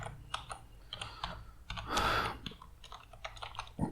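Close computer keyboard typing while Laravel code is entered, a steady run of soft clicks with one denser burst partway through and no voices.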